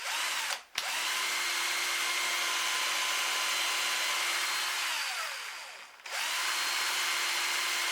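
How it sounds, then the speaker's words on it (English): A power drill whines steadily through wood, pausing briefly near the start and again toward the end before resuming, close and loud. "and then I'll just drill through here."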